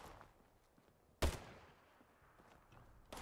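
Crusader pistol in a video game firing cryo ammo, a single sharp shot near the middle of an otherwise quiet stretch, followed by a short fading tail.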